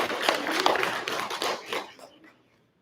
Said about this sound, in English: everybody give a round of applause for Riona Jackson